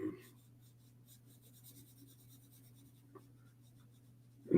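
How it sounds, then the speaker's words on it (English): A darker pencil sketches on paper for a Deadpool and Wolverine cover drawing, a faint, steady, close scratching and rubbing over a low room hum, with a tiny tap near the end and no talk. "Let's go to darker pencil."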